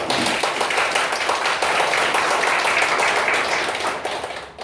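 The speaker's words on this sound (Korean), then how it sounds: "박수 부탁드리겠습니다" Sustained audience applause at a church debate forum on the new covenant, dense clapping from a whole room, steady and fairly loud throughout before tapering at the end.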